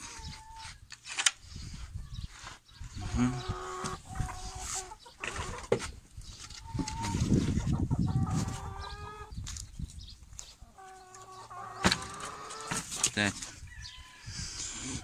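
Chickens clucking inside a chicken coop, repeated short clucks and cackles scattered across the clip at moderate distance, with a person talking intermittently over them and some rustling movement.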